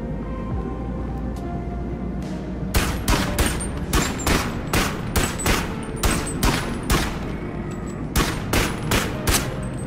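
Loud gunfire in the VR game BONELAB: a long string of sharp shots in an irregular rhythm, some in quick pairs, continuing for about seven seconds after a quieter start, with no speech.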